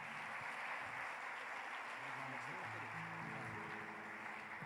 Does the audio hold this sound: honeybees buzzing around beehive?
no